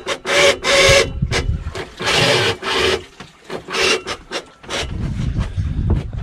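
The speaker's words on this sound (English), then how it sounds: "Nothing but the sweet sound of that autopilot" A sailboat's autopilot runs while under sail, repeatedly driving out harsh rasping, grinding mechanical bursts in an uneven rhythm, loud and close, with short gaps between them.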